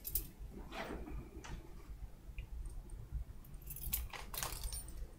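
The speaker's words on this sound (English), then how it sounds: "We're going to drop something and you're going to search for some keys." Dropped keys jangle faintly during an orientation and mobility sighted guide exercise, a few soft metallic clinks and rattles scattered over quiet room noise, with no talk.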